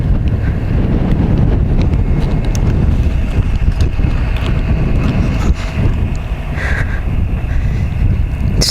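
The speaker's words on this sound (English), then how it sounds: "Very windy up here." Strong wind gusts roar across open, fenced high ground on a drive between Vernal, Utah and Boulder, Wyoming, producing a constant heavy buffeting rush with no voices.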